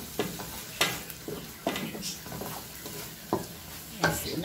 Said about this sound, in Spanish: Mezclamos bien.